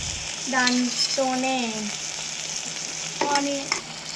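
Egg fried rice being stirred in a pan with ginger garlic paste, a soft sizzle and scraping under several bright whistle-like tones that rise and fall in short bursts.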